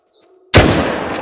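A single loud, close hunting rifle shot in theHunter: Call of the Wild, a sudden sharp blast with a long rolling echo, preceded by faint bird calls in quiet surroundings.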